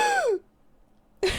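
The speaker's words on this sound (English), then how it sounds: "I was sitting on the couch gasping every, 2 minutes." One person gives a sharp, breathy gasp that slides downward, then a short silence follows before a second gasp begins.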